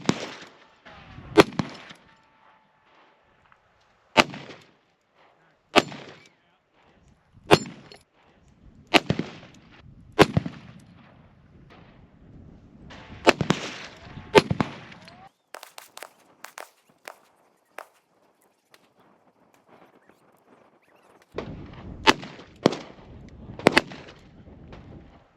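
Close-range shots from an S&W Model 340 PD titanium .357 Magnum revolver fired at targets from about ten feet: sharp loud reports in irregular groups, with a pause for reloading before a final quick cluster.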